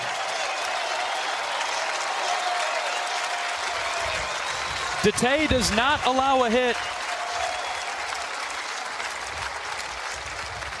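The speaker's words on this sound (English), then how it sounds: "Ben leaves the mound to a standing ovation from the Hawkeye crowd" At an Iowa vs Oregon State college baseball game, the Hawkeye crowd gives a departing Iowa pitcher a standing ovation. Steady, far-off applause and cheering fill the background while a commentator talks over it.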